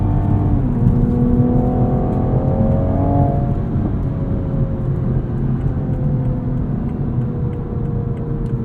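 A grey 2022 Toyota Supra accelerating in sport mode, its engine droning loudly with rising tones that ease off as the automatic transmission holds and shifts gears, heard from inside the car under steady road noise.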